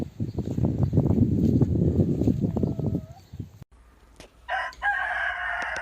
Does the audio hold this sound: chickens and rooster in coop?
yes